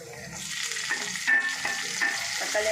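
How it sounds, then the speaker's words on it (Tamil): Green chillies and onions sautéing in a pan, a continuous close sizzle with occasional stirring scrapes and clinks layered over the hiss, moderately loud and without any speech. "இந்த அளவுக்கு வதங்கினா போதும்"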